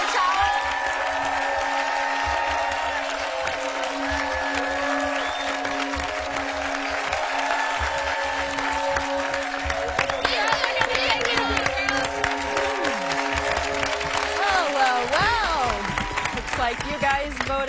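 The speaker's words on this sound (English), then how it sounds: "Give her a big round of applause." A studio audience on a televised game show applauds and cheers, a dense steady wash of clapping with voices mixed in, continuous and fairly loud.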